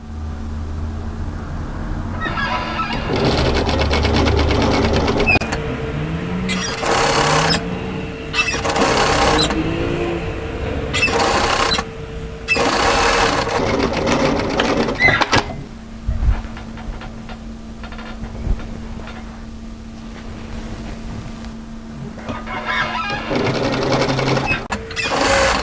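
An overlocker stitches the sleeve seam of a dolman batwing top, running loud and close in several rapid bursts separated by short pauses, each start and stop sharply defined.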